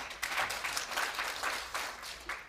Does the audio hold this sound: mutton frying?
no